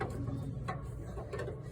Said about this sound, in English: we're going to turn this socket head screw to slightly raise our mower deck